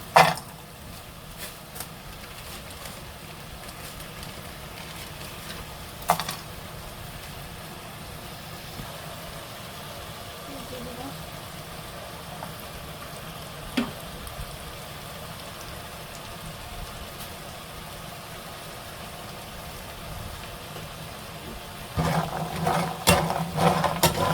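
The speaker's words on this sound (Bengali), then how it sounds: "এখন বড়িগুলো প্রথমে আমি ভেজে নেব।" Lentil dumplings (bori) fry in a pan for a drumstick-and-dal bori dish, giving a steady, even crackling sizzle that runs throughout. A few sharp clicks break in, and utensil clatter rises at the end with no talk.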